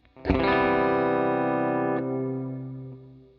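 A single distorted electric guitar chord rings out through an HX Stomp with increased reverb decay, sustaining for about two seconds before a gentle reverberant tail fades.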